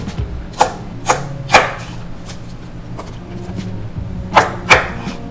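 A knife chops an onion on a board in a kitchen, giving a handful of crisp, close thuds, three near the start and two later, with a quiet pause between.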